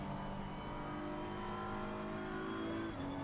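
BMW M4 GT3 race car engine in a racing video game, downshifting with steady loud revving engine roar and shifting pitch throughout.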